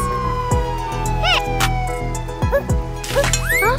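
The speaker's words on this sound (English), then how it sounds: "The ambulance is arriving soon." A wailing emergency siren rises and falls in pitch over a steady background hum, with short sweeping tones near the end.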